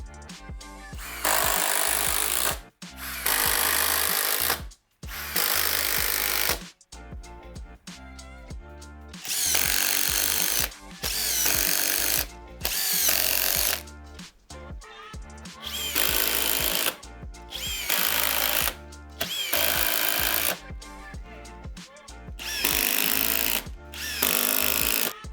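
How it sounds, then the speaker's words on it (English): Impact drivers drive typical deck screws into wood in a string of loud, close, hammering bursts, each a few seconds long and separated by brief pauses. "The performance is essentially the same here if you're driving typical deck screws."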